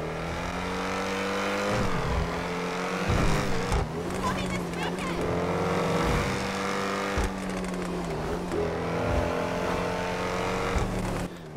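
Ocelot XA-21 prototype sports car in GTA Online revving its exhaust in repeated bursts, loud and close, each rev climbing and then falling back, with a voice talking over parts of it.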